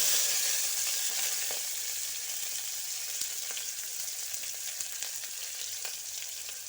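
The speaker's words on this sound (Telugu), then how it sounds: "ఈ పచ్చిమిర్చి వేగుతున్నాయి కదా, ఇప్పుడు ఉల్లిపాయలు కూడా వేసేసుకుందాం." Green chillies and sliced onions fry in a pan for a potato and peas curry, producing a steady, moderately loud sizzle with faint crackles and stirring clicks, gradually easing slightly.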